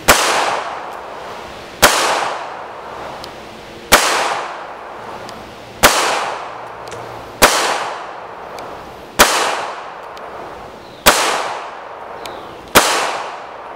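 A Walther CCP single-stack 9mm pistol firing 115-grain full metal jacket rounds at seven yards: eight loud, sharp reports at a steady pace about two seconds apart, each followed by a ringing decay, with no talking.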